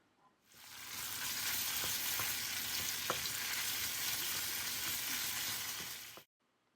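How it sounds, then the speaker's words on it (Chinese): Chopped doubanjiang sizzles and fries in a little hot oil in a heated wok, a steady, loud crackling hiss with occasional stirring scrapes, heard alone without talk and cutting off abruptly at the end. "锅热放一点油，先要用油煎一下"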